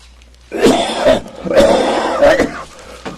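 Two or three harsh coughs close to the mic, the first short, then a longer rasping bout, with a faint click at the end.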